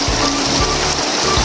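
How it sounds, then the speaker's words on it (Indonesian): Heavy rain pours steadily outside during a storm with strong wind, a loud dense hiss of drops on surfaces filling the whole moment with no talk. "Jadi di luar itu hujan"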